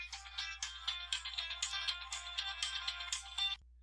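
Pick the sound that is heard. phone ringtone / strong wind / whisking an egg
phone ringtone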